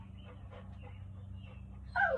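A puppy whimpers and yips in short whiny bursts near the end, close and fairly loud, over a steady low hum and background sounds while stuck on a chainsaw.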